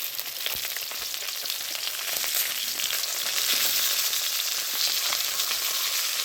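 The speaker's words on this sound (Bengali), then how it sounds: "এদিকে এই যে মাছ ভাজা হচ্ছে এখনও" Fish fries in a pan on a home stove, giving a loud, continuous sizzle with fine crackling that swells slightly toward the end, close by and free of speech.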